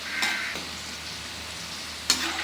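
Onion pakoda frying in oil on a medium flame for crispy sweet-stall style fritters: a steady, close hiss and sizzle with a couple of sharper spatters, no talking.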